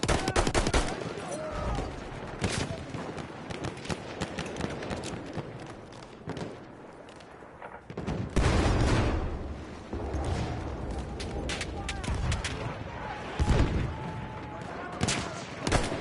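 Rapid bursts of machine gun fire in Battlefield 1, loud and dense, with heavy impacts and battlefield clamor throughout and voiced game callouts mixed in.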